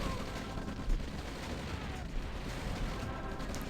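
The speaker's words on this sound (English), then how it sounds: "Artillery already coming in for medium tank here to kind of contest this area" Artillery fire in the strategy game OpenRA, a dense, continuous rumble of distant shelling and gunfire with a few heavier thumps poking through, steady and fairly loud throughout.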